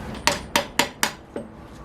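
Five sharp metallic hammer blows, evenly spaced then slightly slower, ring out close up as a poly front suspension bushing is knocked out of a Toyota 90 Series Prado.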